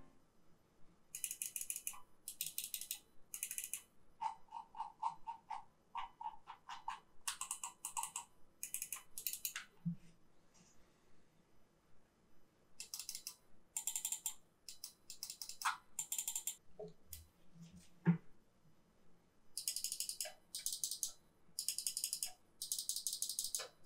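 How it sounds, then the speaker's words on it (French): Buttons on a gaming mouse click rapidly up close, in quick repeated bursts separated by short pauses, with sharp, crisp clicks and no talking. "le test des bruits de clic"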